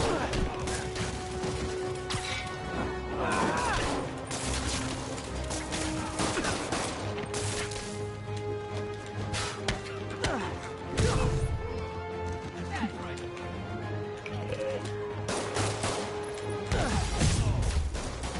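Rapid gunfire in a Spider-Man PS4 storefront robbery scene, sustained bursts and sharp crashes running throughout over a steady game backdrop, with voices shouting at times.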